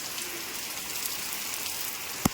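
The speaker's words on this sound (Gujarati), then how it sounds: "ફૂલ વરસાદ ચાલુ છે અત્યારે" Heavy rain falls steadily in a farm setting at planting time, a soft even hiss of drops on surfaces. Near the end comes one sharp close knock, and there is no speech.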